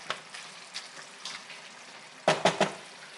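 Ground beef cooking in a pan with tomato purée gives a soft, low sizzle, then three quick scraping stirs near the end, close and fairly quiet.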